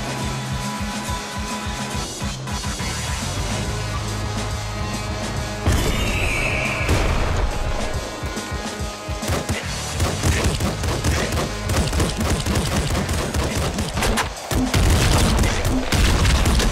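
Rapid grenade launcher blasts and gunfire pound continuously in the Nuclear Throne video game, a loud, chaotic barrage of booms and crashes with hardly a pause.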